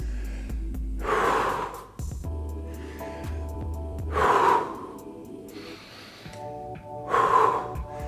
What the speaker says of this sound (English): Important when you hear me breathing,